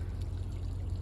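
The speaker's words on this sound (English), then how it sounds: "It's running water though." Running water flowing in a muddy creek at a logging site, a brief continuous low gurgling wash without talk.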